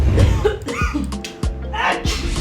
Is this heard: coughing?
yes